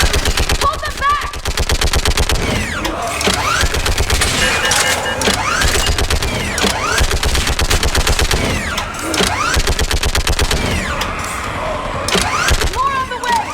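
Sustained rapid automatic gunfire from the video game Mass Effect 3 rattles on loudly and almost continuously, with voices shouting over the battle.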